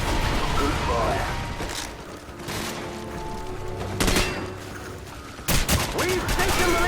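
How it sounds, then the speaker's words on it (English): Weapons firing in Call of Duty 4: Modern Warfare, with rapid fusillades, sharp loud shots and mechanical clatter in a chaotic firefight, under a voice and game dialogue. "The weapons sound appropriately devastating."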